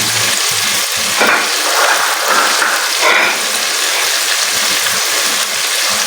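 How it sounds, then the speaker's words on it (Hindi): Chicken chana masala with tomato sizzles and hisses in a pan during bhunai, a steady loud frying noise with brief scraping stirs at intervals and no talking. "अब इसकी भुनाई जो है ना वो हमने बहुत अच्छे से करनी है"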